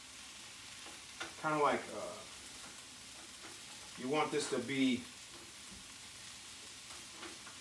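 Onions and mushrooms sauté in a pan with a steady, soft sizzle that runs throughout, while a person talks in two short stretches over it.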